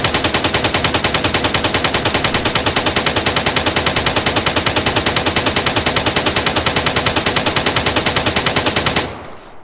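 Sustained medium-caliber automatic fire aimed at a turret in the Arma 3 video game, a loud, steady rapid string of shots running for about nine seconds before cutting off abruptly.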